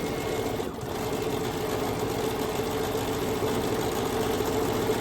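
A Bernina sewing machine stitching a zigzag hums and whirs in a steady, continuous mechanical drone that holds even throughout, with no talking.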